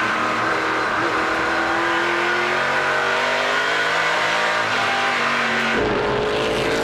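NASCAR Pinty's Series stock cars racing three wide through lapped traffic at the 2018 Luxxur 300, their engines a loud, continuous close roar with rising and shifting pitch sweeps throughout.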